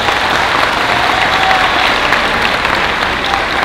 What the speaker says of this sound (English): let's give them another round of applause, as loud as we can